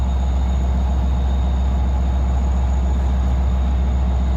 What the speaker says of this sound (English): the engineer will now control the train from his cab in the locomotive